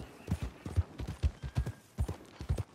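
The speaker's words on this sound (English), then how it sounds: "Look at the donkeys moving around." Donkey hooves clip-clop in a quick, uneven trot on a hard surface in Red Dead Redemption 2, close and moderately loud, with several animals' steps overlapping.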